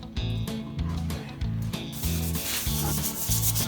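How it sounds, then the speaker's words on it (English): Steady rhythmic scuffing and rubbing of abrasive against metal frame connectors on a 1965 Comet, in repeated back-and-forth strokes close up, with no talking. "so we're gonna scuff all this stuff down"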